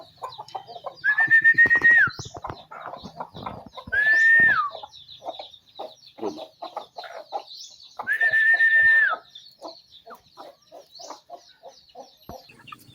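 Chickens, including black Australorps, cluck and murmur throughout, with three drawn-out, higher calls rising above the steady chatter of the flock nearby.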